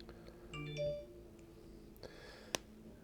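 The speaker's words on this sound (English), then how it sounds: "I think that was just a notification." A smartphone set to loud gives a short, soft notification chime in a quiet room, faint and brief, followed by a small click.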